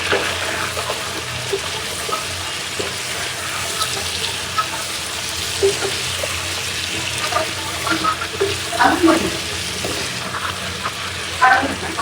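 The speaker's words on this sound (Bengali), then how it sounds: "দেখেন সুন্দর করে কিন্তু পটলটা কষানো হচ্ছে" Pointed gourd and small potatoes stir-frying in a pan for an iftar dish, a soft continuous sizzle with scattered scrapes and clinks of the utensil that grow busier toward the end.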